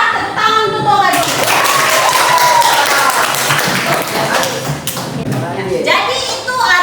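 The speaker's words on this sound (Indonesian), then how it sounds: "Tepuk tangan untuk Toga dulu." Classroom applause for a student, a burst of clapping from schoolchildren that swells and fades over several seconds, mixed with a teacher's voice and kids' chatter.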